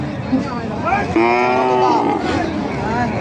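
A cow gives one long, loud, drawn-out moo at a cattle market in Panchbibi, set against a background of market chatter.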